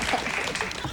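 A women's audience applauds at a comedy seminar-style talk, a dense, steady patter of many hands clapping at moderate loudness for about a second.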